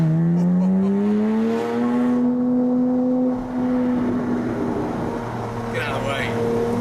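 A Porsche 981 Boxster S fitted with an Armytrix valvetronic exhaust drones loudly and raspily, its engine note climbing steadily in pitch as it accelerates, with faint voices under it.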